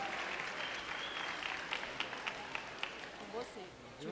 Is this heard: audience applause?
yes